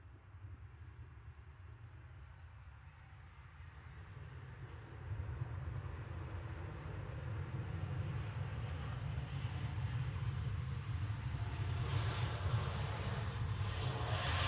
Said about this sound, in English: This is a 13-year-old 737-800 ENC with flight 3186